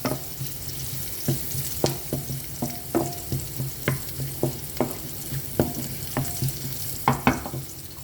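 Chicken hearts browning in a pan sizzle steadily while a utensil stirs and scrapes, giving regular sharp knocks roughly every half second, close and moderately loud with no talking.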